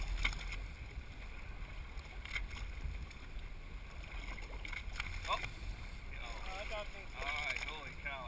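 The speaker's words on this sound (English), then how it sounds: "Pulling the boat around this thing." Boat being manoeuvred on open water while fishing for blue marlin, with a steady engine rumble, wind buffeting and splashing water throughout, and a voice speaking over it.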